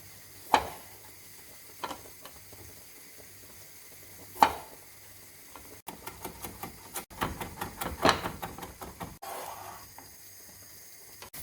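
Spaghetti with garlic frying in olive oil with chili gives a faint, crackling sizzle at close range, broken by a few sharp clicks early on and then a denser run of rapid ticking pops.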